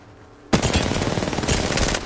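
Rapid automatic gunfire from the shooter game Apex Legends on PS4 bursts in after a quiet half second and rattles on loud and continuous, a dense stream of close shots.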